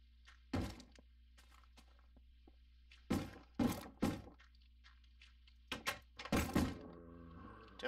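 Zombie banging on a door in a survival video game: a series of heavy, hollow thumps in irregular bursts, some single and some in quick doubles, loud and close over a low steady background hum.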